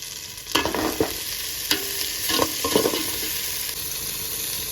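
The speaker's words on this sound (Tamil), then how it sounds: "சேர்த்து நல்லா வதக்கி எடுக்கலாங்க." Onions and tomatoes with curry leaves sautéing in a pan for a mango egg fish gravy, with a steady low sizzle and several distinct stirring scrapes and clatters scattered through, close and moderately loud, no talk.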